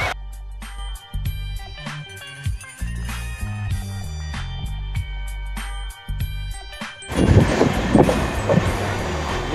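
A train travels on rails through India toward Nagpur with a steady low rumble, rhythmic clacking and rattling. A louder, noisier rush of air and wheel noise takes over near the end.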